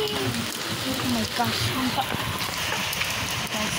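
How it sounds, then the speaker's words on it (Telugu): Steady rain pattering on surfaces nearby, a dense continuous hiss with scattered drops, while a voice is faintly heard underneath. "వర్షం పడుతుంది."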